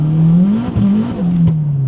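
An old 2-liter car accelerates hard in second gear with its tires spinning. The close, loud engine drone climbs in pitch, dips briefly twice as the revs bog and recover, then carries on.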